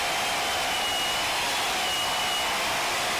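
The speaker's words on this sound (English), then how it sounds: "With a smooth, continuous clockwise motion, engage the cutter head into the material until it stops on the land width gauge." WD-21 pipe beveler with its cutter head engaging a pipe, a loud, steady, unbroken whirring grind that stays constant for the whole few seconds.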